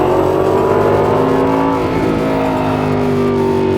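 An Aston Martin Vantage S engine revs loudly on a race track, its sustained, harmonically rich roar held close and steady with a slight dip in pitch midway, alone with no voices.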